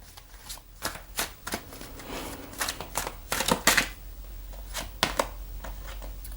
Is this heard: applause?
no